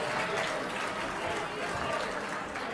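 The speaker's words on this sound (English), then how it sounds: "huge round of applause" Applause from an audience at a charity auction, a steady wash of many hands clapping at moderate distance, continuous through the moment with a crowd murmur beneath.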